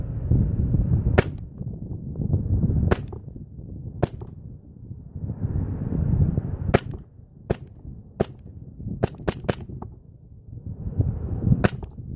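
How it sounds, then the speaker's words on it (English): An airsoft Colt 1911 gas blowback pistol fires a dozen sharp, loud cracks, spaced singly and in quick groups, over a steady low background rumble. "now for the shooting test"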